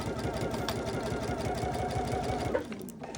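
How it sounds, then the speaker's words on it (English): A sewing machine stitches a seam allowance on an oven dress made from a towel, its motor buzzing loud and close with rapid, regular needle strokes before slowing and stopping near the end. "just gonna sew that seam allowance, following the information in the pattern"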